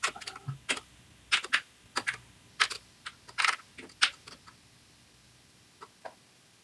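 Bursts of key clicks on a computer keyboard, typed in short irregular runs with pauses between them, close and fairly quiet, no voices.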